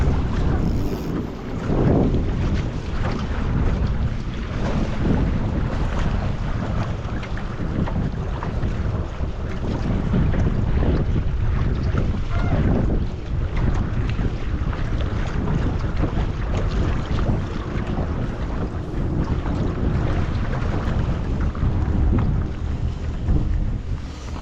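Strong, steady wind gusting over the Niagara River, roaring and buffeting continuously for the whole stretch with broad rumbling noise and no talk.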